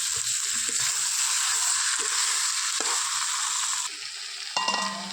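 Chopped tomato and quail meat frying in a pan, a steady loud sizzle with the hiss running unbroken throughout, easing slightly near the end as a brief clink of stirring breaks in.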